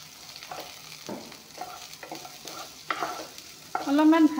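Fish that was fried earlier is frying again in a pan with nigella seeds, giving a steady close sizzle and repeated stirring scrapes. The hiss grows louder near the end.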